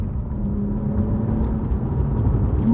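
A 991.2 Porsche 911 Carrera T with a twin-turbocharged engine, heard from inside during a heel-toe downshift: a loud, steady mid-pitched engine drone with a slight rise in revs and no voices.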